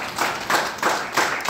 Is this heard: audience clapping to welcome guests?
yes